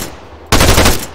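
Gunfire in Arma 3, a sudden loud burst of rapid shots after a quieter hiss, close and harsh.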